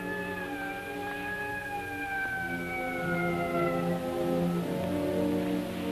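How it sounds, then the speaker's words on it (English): Police sirens in a radio drama, a faint droning wail with slowly gliding tones that fades down and shifts pitch near the end, heard alone without voices. "When I got far enough away not to be annoyed by police sirens"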